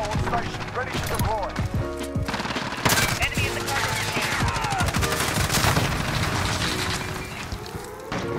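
Gunfire from an FAL rifle in Modern Warfare crackles in loud, rapid bursts with sharp individual shots and game effects over a busy, continuous battle backdrop.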